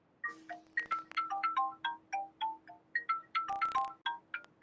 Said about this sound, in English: Someone's phone is going off